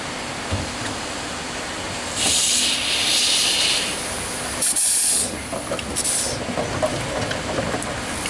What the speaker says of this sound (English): We were greeted by the sight of number 8 doing shunting works in the main yard.